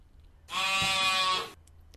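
A newborn lamb gives a single sustained, wavering bleat lasting about a second, clear and close against a quiet background.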